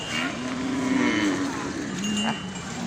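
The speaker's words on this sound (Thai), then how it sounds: "ฟังควาย" A water buffalo lows at a cattle and buffalo livestock market, one long, loud, close moo held for nearly three seconds over faint background market noise.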